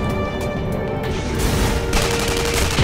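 Dense, loud gunfire from the online shooter game Tribes Ascend, a continuous barrage of rapid shots and blasts that grows heavier toward the end, with no talking over it.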